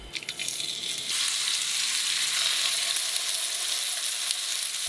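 Chicken fillet sizzles steadily in a hot pan over medium heat, a bright crackling hiss that jumps louder after a moment and holds constant.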